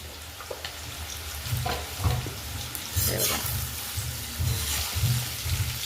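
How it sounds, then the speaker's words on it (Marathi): Potatoes frying in a pan over a full gas flame for dahi aloo, a steady sizzle under repeated low rhythmic scraping pulses as they are stirred, close and moderately loud. "आपण मस्त फुल गॅसवरतीच फ्राय करायचे आपल्याला हे"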